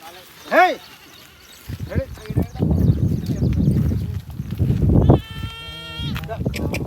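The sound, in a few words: goat bleating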